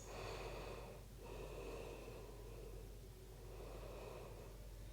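Slow, deep breaths during a standing forward-fold yoga stretch, soft airy inhales and exhales repeating in a steady rhythm, close and quiet over a low background hum.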